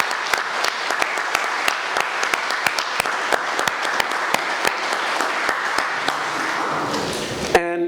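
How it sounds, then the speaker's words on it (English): Audience at an all-candidates election forum giving steady applause, with dense clapping and some louder individual claps standing out near the microphone, before it cuts off abruptly near the end. "And so I'd ask you to give them a round of applause."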